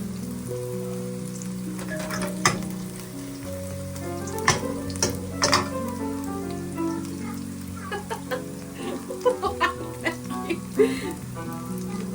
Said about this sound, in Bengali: এইদিকে শুরু করেছি পেঁয়াজি ভাজতে